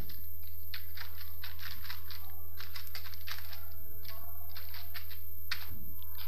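Quick bursts of keystrokes on a computer keyboard while code is typed in C, clustered in irregular runs with short pauses, close and moderately quiet over a steady low electrical hum.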